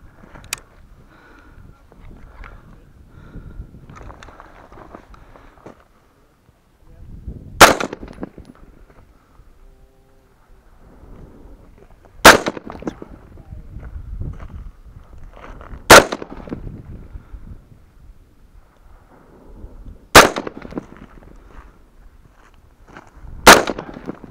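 Gunshots in a first-person shooter game, five sharp, loud single shots spaced a few seconds apart over a low murmur of game sound.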